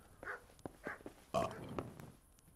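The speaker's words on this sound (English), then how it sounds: "Walks like an idiot and he burps nonstop." A character burping in the video game Kingdom Come: Deliverance, with several short, guttural belches in quick succession at low volume and one louder burp in the middle.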